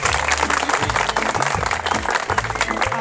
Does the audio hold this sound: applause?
yes